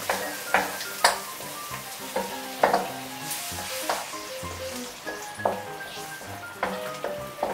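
White wine poured into a hot pan for salt cod rice sizzles steadily as it reduces, with regular scraping and tapping from a stirring utensil, close and loud, no voices.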